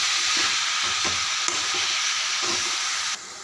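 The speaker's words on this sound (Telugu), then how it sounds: "మొత్తం దగ్గరకు వచ్చే వరకు కలుపుకోవాలి" A spoon stirs a sizzling mixture in a frying pan, steady loud frying hiss with soft rhythmic scraping strokes about every half second, close and without talk.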